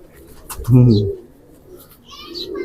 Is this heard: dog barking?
no